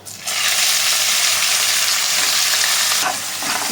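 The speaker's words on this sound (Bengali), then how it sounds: "ভালো করে নাড়াচাড়া করে যতক্ষণ না পর্যন্ত ব্রাউন হচ্ছে ততক্ষণ পর্যন্ত আমাদের ভেজে নিতে হবে" Onions frying in oil with bay leaf, whole cumin and cardamom for a mutton curry, a loud steady sizzle that starts sharply and holds throughout, with a brief scrape of stirring near the end.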